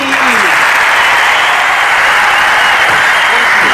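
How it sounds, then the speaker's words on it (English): Very loud, continuous applause from an audience welcoming host Joseph Moretti at a show launch, a constant dense clatter of many hands with no letup. "Please clap your hands for Joseph Moretti"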